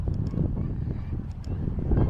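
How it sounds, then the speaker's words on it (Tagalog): Low, steady cold wind in the UK buffets the microphone with a rumbling roar, and faint voices can be heard beneath it. "Malamig talaga yung hangin."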